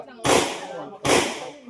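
Two sharp gunshots from a firearm ring out on a shooting range, close and loud, each followed by a short decaying echo.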